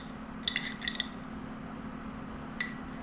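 A spoon taps and clinks against glass canning jars while dried dill is portioned into them, a few faint light chinks over a low steady hum in a quiet kitchen.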